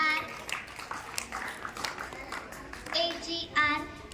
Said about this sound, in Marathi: हा टाळ्या वाजवा जरा